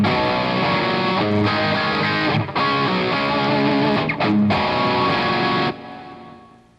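Electric guitar with heavy distortion and effects plays a short bridge of two chords, strummed loud and close in sustained ringing bursts with brief breaks, then fading out at the end.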